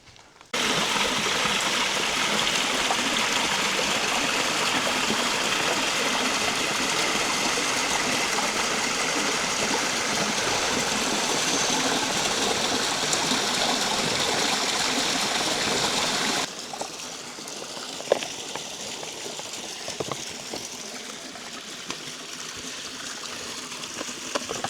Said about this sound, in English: There must be a stream up ahead.